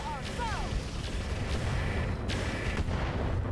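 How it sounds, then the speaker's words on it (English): Mech weapons fire at an enemy mech in the Roguetech video game: a steady, loud barrage of booming rumble, with a few whooshing sweeps early on and sharper bursts later. "now let's just shoot him"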